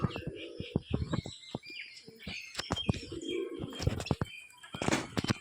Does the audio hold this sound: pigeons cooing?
yes